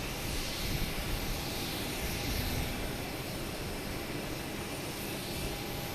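A United Airlines Boeing 737 MAX 9 arriving from Washington at Boston Logan gives a steady, broad jet roar that holds at an even, fairly loud level throughout, with no voices over it.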